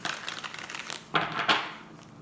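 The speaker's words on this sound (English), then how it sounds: "One more shuffle for you, Virgo." Tarot cards being shuffled, a stretch of soft rapid riffling papery flutter followed by two louder crisp snaps or slaps of the deck, close and alone without talk.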